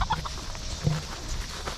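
Chickens and roosters on a farm clucking softly, a few short calls scattered across a steady low background, moderately close, with no talk.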